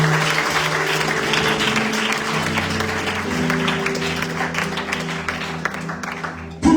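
A church congregation breaks into sustained, loud applause for Jesus Christ, dense clapping continuing without pause until it cuts off at the end.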